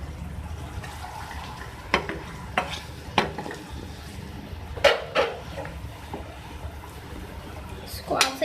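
Chopped cabbage is stirred in a pan with chili flakes and green chilies, giving scattered scraping clinks of a utensil against the pan over a low frying hiss, with a voice talking at times.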